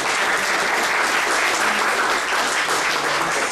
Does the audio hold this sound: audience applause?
yes